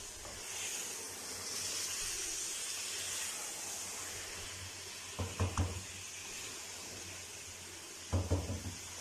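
Mutton paya frying with masala in a pan gives a steady, close sizzling hiss, broken twice by short bursts of clinking utensil knocks.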